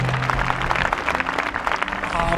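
An audience at a 50-day fasting prayer meeting claps loudly and steadily, a dense, continuous wash of hands throughout, with some voices mixed in underneath.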